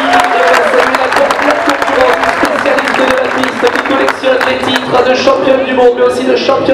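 Outdoor crowd at the start of the Tour de France Femmes in La Gacilly, clapping and cheering loudly and continuously while an announcer talks over the public address.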